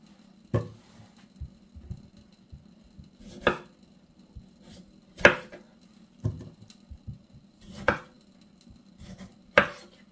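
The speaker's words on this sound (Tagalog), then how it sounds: "hiwain ko muna tong tomato" Knife chopping tomato on a board in a home kitchen, heard as sharp, close cuts arriving singly and in short pairs at an uneven pace, with a low steady hum behind and no talk.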